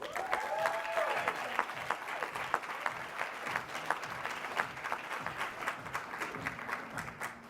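An audience applauds to welcome a speaker onto the stage: steady, dense clapping from a sizeable crowd that carries on throughout without letting up.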